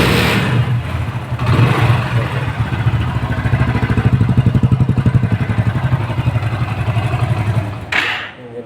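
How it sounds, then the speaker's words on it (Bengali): A Hero iSmart motorcycle engine runs close by after starting, with a steady, even idle pulse that holds for several seconds before cutting off. "ইঞ্জিনের সাউন্ড কতটা স্মুথ।"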